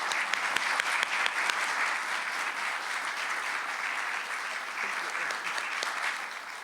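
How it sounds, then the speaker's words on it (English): A symposium audience applauding steadily, a dense sustained clapping crowd heard from some distance in a hall, moderately quiet and even throughout with no speech over it. "Let's give everybody a round of applause for all of their work."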